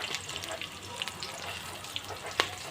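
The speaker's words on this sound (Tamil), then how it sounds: "நல்லா வதங்கட்டும் வெங்காயம்" Onions for sambar rice sauté quietly in a pan, a faint steady sizzle with a few soft clinks and stirring sounds, heard alone.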